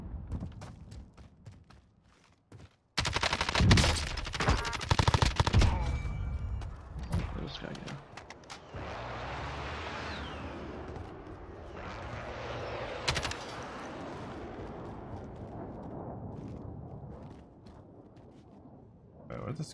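Gunfire in Call of Duty Warzone, with a loud, dense volley of rapid shots early on, followed by scattered bursts and rumbling mechanical noise while players talk over the action.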